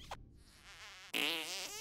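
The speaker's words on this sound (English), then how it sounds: "Did I just fart?" A cartoonish fart sound effect from the video game South Park: The Stick of Truth, a short buzzy blast that rises and wavers before a louder, brighter second burst, heard alone without talk.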